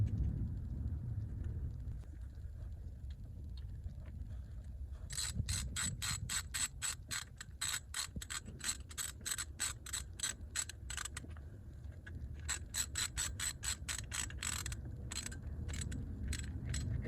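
A ratchet clicks in quick bursts while a radiator hose is screwed back on a 2002 Mitsubishi Galant during coolant system work, with two long runs of rapid ratcheting separated by short pauses, close and alone.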